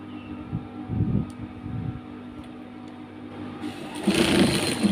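Sewing machine stitching a sleeve on a garment, rhythmic mechanical whirring in short bursts that speeds up into a louder continuous run at the end, heard close up.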